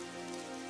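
Steady rain falling as a story sound effect, an even, soft wash of drops with no breaks and no voices.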